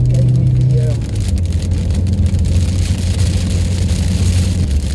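Heavy rain drums steadily on a lorry cab while it drives along a road, a dense hiss layered over the low rumble of the engine and tyres.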